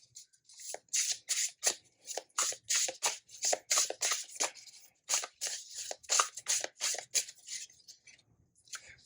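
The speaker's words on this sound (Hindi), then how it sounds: "अब और कार्ड्स निकालते हैं।" A deck of tarot cards being shuffled by hand in repeated quick riffles and flicks, crisp papery bursts in a steady irregular rhythm, close and clear with no talking.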